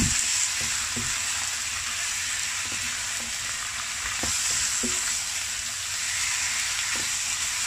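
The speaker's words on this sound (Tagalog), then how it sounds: "Haluin lang, siyempre, yung parang piniprito." Marinated beef brisket being stirred while it fries in a pan, giving a constant soft sizzle with scattered utensil scrapes and taps and no voices.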